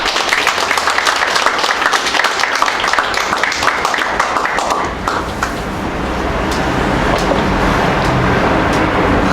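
Loud, dense applause from an audience at a campaign office opening for a district mayoral candidate, sustained for several seconds before thinning into scattered claps and room noise.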